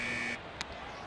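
A quiz buzzer during a broadcast of a Mets at Phillies baseball game, a short, bright electronic tone that cuts off abruptly after about a third of a second, followed by a brief click over low broadcast background noise.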